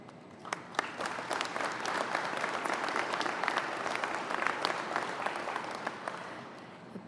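Audience at a press conference breaking into sustained applause, many hands clapping in a dense, steady wash that swells slightly in the middle and stays loud throughout without a break.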